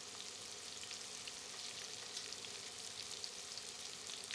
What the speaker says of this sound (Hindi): अब सारी सामग्री को 2 मिनट मध्यम आंच पर भूनते हैं।